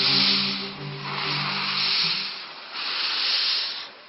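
A steam locomotive gives off a loud, steady rush of hissing steam that swells and eases in broad pulses, with a low tonal hum running beneath it through the first half.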